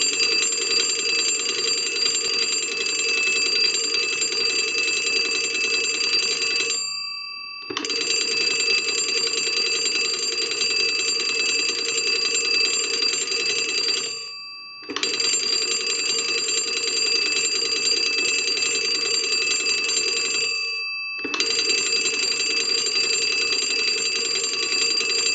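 Original bells of a Western Electric Lineman 2M magneto bell box ring loudly under hand-crank power, in four long continuous bursts separated by brief pauses, with a steady metallic clangor and no talking.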